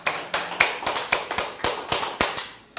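Church congregation at a Sunday worship service clapping in a steady rhythmic beat, sharp regular claps roughly three per second, close and clear with no talking over them.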